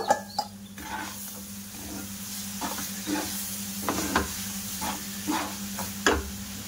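Roasted semolina being stirred with palm fruit pulp into a stiff dough in a pan, giving soft scraping strokes and light sizzling with a few sharper knocks against the pan.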